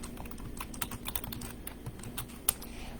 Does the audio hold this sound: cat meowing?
no